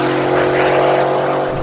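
A supercharged Ford F-150 race truck, a Hennessey Venom 800 Sport, accelerates hard in a loud, steady engine roar with strong harmonic drone that holds throughout, no talk over it.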